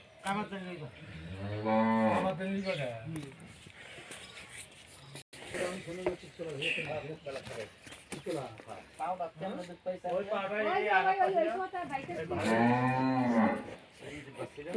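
Cattle kept for sale moo in long, deep, drawn-out calls, one near the start and a louder run toward the end, with people talking nearby throughout.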